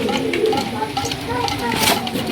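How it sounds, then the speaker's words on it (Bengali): Kaldom pigeons coo softly in short repeated phrases close by, mixed with rustling handling noise while a person talks over them. "আজকে আমি আপনাদের এই দুখানা দেখাচ্ছি কালদম কবুতর"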